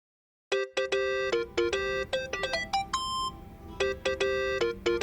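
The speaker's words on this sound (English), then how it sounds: "Think that's your phone, man." A mobile phone ringtone in the video game Yakuza 7: Like a Dragon plays as a loud, close melody of bright electronic beeps in quick repeating phrases, starting abruptly after a moment of silence.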